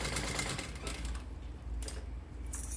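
A sewing machine stitches around the edge of a zippered pouch in a quick, steady mechanical chatter, briefly pausing and restarting close by with no talking over it.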